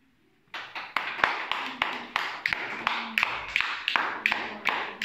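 Children clapping together in a classroom, a brisk rhythmic run of roughly a dozen sharp, fairly close claps starting after a brief silence and continuing to the end.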